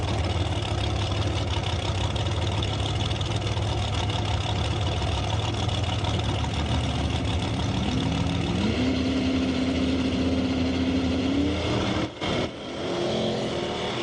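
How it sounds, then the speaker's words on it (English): Drag race cars at the start line of an ET bracket final, a steady distant engine drone with a rising rev toward the end, then a brief dip. "Now there is a drag race going on right there."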